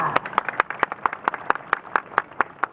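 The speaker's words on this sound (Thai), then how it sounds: "ชาวอำเภอหนองสองห้องขอเสียงปรบมือให้ ประธานชมรมกำนันพี่บ้านและคณะค่ะ" An audience at the Bun Kum Khao Yai merit-making festival in Nong Song Hong district claps in a quick, even rhythm, with sharp, close, regularly spaced claps over a low background murmur.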